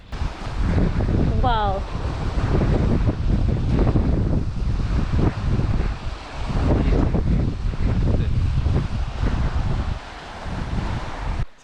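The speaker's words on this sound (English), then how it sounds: "we just arrived here at Alyko beach" Steady wind buffets the microphone over rolling surf at Alyko beach on Naxos Island, Greece, a continuous broadband rush with surging waves; a voice briefly exclaims early on.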